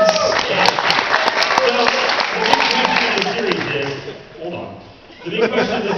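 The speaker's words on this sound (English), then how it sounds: "You should all be clapping and losing your minds right now" Audience at a New York Comic Con 2014 Dark Horse comics panel clapping and cheering in a dense burst over crowd noise and a speaking voice, fading near the end before picking up again.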